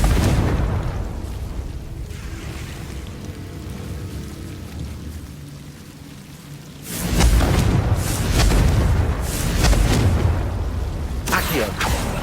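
A Confringo blasting spell exploding in Hogwarts Legacy, a loud booming burst over a continuous rumbling game ambience, followed by further rolling blasts.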